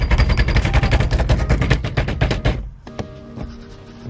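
Rapid, loud banging on the steering wheel of an R34 Skyline being knocked loose, a fast run of sharp impacts lasting a couple of seconds, followed by a few lighter metallic clanks.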